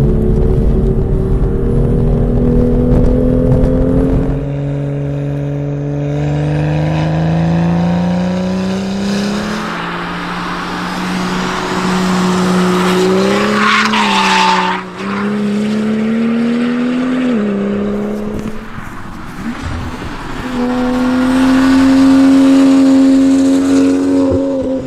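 A BMW M2 GTS fitted with an Eventuri intake drives on a race track, its engine loud and close, climbing through the revs with clear gear changes and a continuous raw intake roar.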